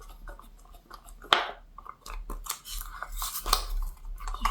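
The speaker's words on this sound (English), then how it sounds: "Now I'm going to stir these products together." Two-part silicone prosthetic components being stirred together in a small container: irregular scraping, clicking and tapping of the mixing tool, close and quiet, a few sharper knocks, with no talk.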